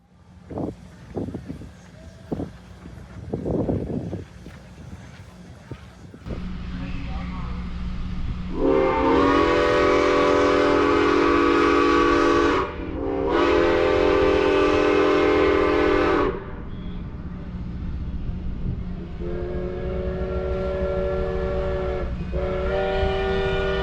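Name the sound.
train whistles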